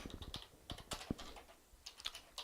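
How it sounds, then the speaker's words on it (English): Typing on a computer keyboard: quick, close, uneven keystroke clicks in short bursts, faint and alone with no talking. "I'm just going to type in"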